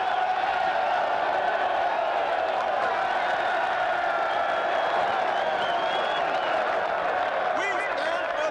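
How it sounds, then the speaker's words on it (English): A large crowd at the 1980 Attica gathering yells and cheers in a sustained, dense roar with clapping and whoops mixed in, steady throughout. "And give me a big yell, huh?"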